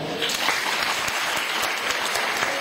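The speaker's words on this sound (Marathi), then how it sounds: "तुमच्यासाठी जोरदार टाळ्या" A live audience claps in dense, continuous applause that fills the room loudly and evenly from start to finish.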